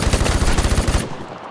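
A rapid burst of video game machine gun fire, a dense run of loud close shots that stops after about a second, leaving a short fading echo.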